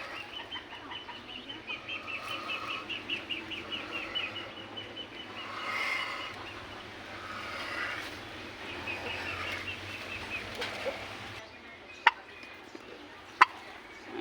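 Newborn turkey chicks on a turkey farm give faint, repeated high peeping calls over a steady low background, with a couple of sharp clicks near the end.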